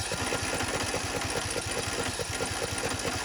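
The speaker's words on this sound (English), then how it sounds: "So my riding lawnmower is turning over at 550, 600 like that." A riding lawnmower engine cranks over on its starter during a compression test, giving a steady, rapid, even chugging pulse up close with no pauses and no talking.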